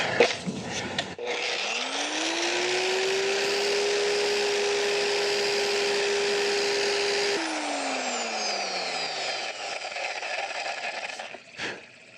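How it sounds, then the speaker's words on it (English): A power sander with 320-grit paper works over painted Harley Dyna Super Glide fender paint, spinning up to a steady, close whirring hum with gritty abrasion, holding for several seconds, then winding down, with a few clicks and rustles at the start and end. "I'm going to sand this down with 320"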